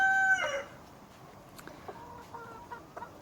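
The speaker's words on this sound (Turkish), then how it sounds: "Şu horoz harika" A rooster crows once at the start, loud and close, followed by softer clucks and chirps from other birds.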